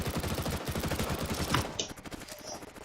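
An MP7 submachine gun in CS:GO fires rapid sustained bursts, loud and close, with a brief pause before trailing off into scattered clicks and ambient game sounds.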